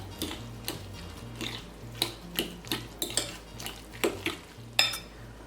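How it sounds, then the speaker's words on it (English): Ricotta and dried parsley being mixed together in a bowl produce rhythmic scraping and clinking of a spoon, about a dozen quick strokes in steady succession, fairly quiet and close, with no talking. "And then I'm gonna just mix this together real well."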